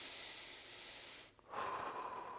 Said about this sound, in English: Nice deep breath if you can, breathing into the abdominal space using the diaphragm.